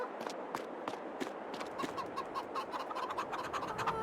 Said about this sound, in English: And the chickens are going off on us